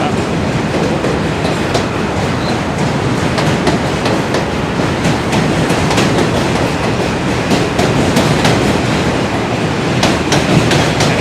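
A New York M subway train rumbles loudly and continuously, with rhythmic clacking of wheels over the tracks throughout.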